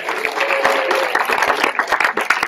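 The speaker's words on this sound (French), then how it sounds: "On peut réapplaudir Anne encore, s'il vous plaît." An audience at a school slam poetry tournament claps for a poet, a dense burst of applause that thins into scattered individual claps toward the end.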